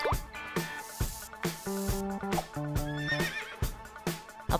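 A horse whinnies amid a busy cartoon-style soundtrack, with a rising neigh over bright musical tones, sparkly chimes and clip-clop hoofbeats recurring throughout.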